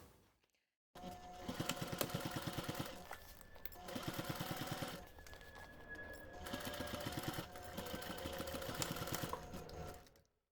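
A sewing machine stitching a bag seam in several runs, fast even rattling of the needle that starts and stops between passes, fairly close and with no talk.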